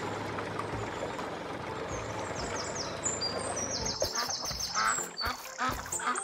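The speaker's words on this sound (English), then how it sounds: "Oh no! It's a duck!" A cartoon duck quacks in a string of short, bright calls near the end, heard over a busy, loud animated soundtrack with a rumbling truck-like bed underneath.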